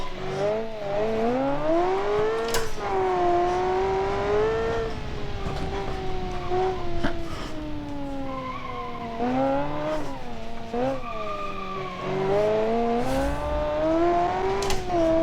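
Car driving hard in BeamNG with a loud, close engine note that rises through the revs and drops sharply at each gear shift, repeated several times, with occasional tire scrubbing under continuous engine noise.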